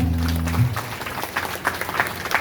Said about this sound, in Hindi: शर्मा जी के लिए जोर से ताली बजाता हूं